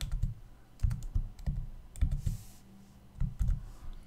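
Keys on a computer keyboard clatter in irregular bursts of close, crisp clicks while JavaScript code is being typed, with short pauses between the groups of strokes.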